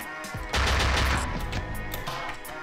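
Gunshots in the Luckslinger game, a sudden loud burst of rapid firing kicking in and rattling on over a sustained musical background, with no speech.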